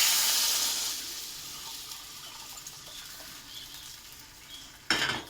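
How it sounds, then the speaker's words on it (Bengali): Onion lentil dal poured into a pan over hot cumin tempering gives a loud rushing sizzle that slowly fades to a low simmer, then a sudden brief burst of hissing near the end. "ডালটা ঢেলে দেওয়া হলো"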